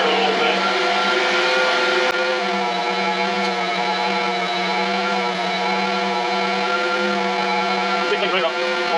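An electric meat grinder hums steadily with a strong, even motor drone while grinding venison with pork fat, loud and close, holding a constant pitch from start to finish.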